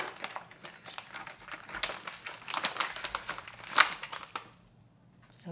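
A packet of Korean ready-made potato pancake mix is torn and crinkled open, giving several seconds of close, loud plastic crackling and rustling in irregular bursts, with one sharp rip near the end before it goes quiet.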